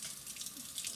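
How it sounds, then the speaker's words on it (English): Tap water runs steadily from a classroom sink faucet into a jar, a continuous soft hiss of flowing water with no talking over it. "go to the sink in the classroom and you're going to take turns filling it up with water"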